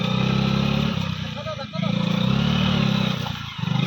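A motorcycle engine drones loudly and close with a steady low rumble, dipping briefly a couple of times while riding over a rough, badly broken road, as a person talks over it.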